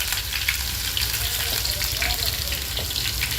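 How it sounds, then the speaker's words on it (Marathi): Crushed garlic hits hot oil in a pan for misal pav, giving a loud, close, continuous frying hiss with a watery, bubbling texture and faint clinks, alone without speech. "तेलामध्ये मी लसूण टाकते, ठेचून घेतलेलं आहे"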